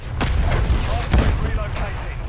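Heavy gunfire and explosive blasts in the video game Call of Duty Modern Warfare III, a loud, dense barrage of shots and booms with faint voices buried beneath.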